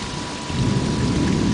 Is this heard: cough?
no